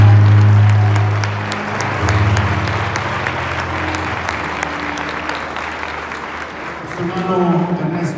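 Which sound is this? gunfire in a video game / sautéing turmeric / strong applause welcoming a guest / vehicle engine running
strong applause welcoming a guest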